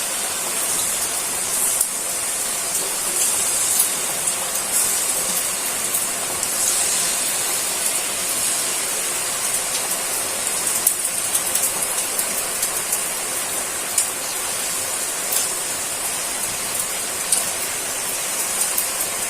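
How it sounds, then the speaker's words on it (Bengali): Heavy rain pours steadily outside a home for the whole stretch, a dense, even hiss of water with occasional louder spatters, moderately loud and without speech. "দেখুন কি বৃষ্টি, বৃষ্টির জন্য ঘর থেকে বের হওয়া যায় না"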